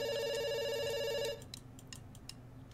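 A telephone bell rings steadily in a repeating electronic trill, fairly loud, for just over a second before stopping, leaving faint room noise with scattered light clicks.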